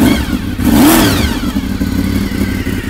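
A Honda VFR 750 FT motorcycle engine runs close by, rising in one sharp rev around the first second, then settling back into a loud, steady idle.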